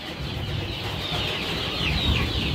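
Sentul chickens cluck on a farm in a steady, noisy flock murmur that holds at an even level throughout, with no clear single calls standing out.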